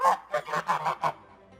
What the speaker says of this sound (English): He's carrying a bamboo cage with a white goose honking loudly.